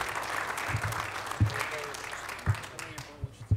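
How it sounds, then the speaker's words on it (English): Applause from the audience at a Linden city council reorganization meeting, clapping continuing under a voice with a few thumping knocks as it carries on. "Thank you all for your applause."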